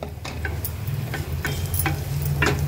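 Almonds and onion sauté in a pan with a steady, loud sizzle, broken by intermittent scraping and stirring clicks of a utensil against the pan.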